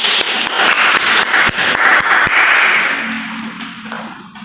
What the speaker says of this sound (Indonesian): Tepuk tangan untuk kelompok Bu.